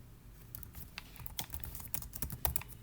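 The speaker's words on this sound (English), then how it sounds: "Here basically we are typing." Someone types on a computer keyboard with quick, uneven, close-up clicks and small pauses between bursts of keystrokes.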